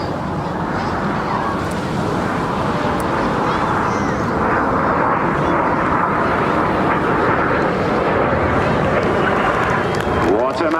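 Red Arrows jet aircraft, Red 8 trailing smoke, at a Bournemouth air display: a loud, continuous broadband jet roar sustained throughout, with a commentator talking over it.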